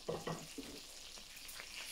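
Butter melts and sizzles in hot oil in a pan holding caramelized bits of meat and flour, with a few soft stirring knocks at the start before a steady, fairly faint hiss takes over.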